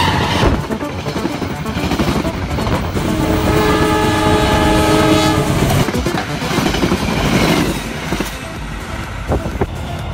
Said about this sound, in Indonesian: Melaju dari arah timur, rangkaian KA211 kereta api Maharani.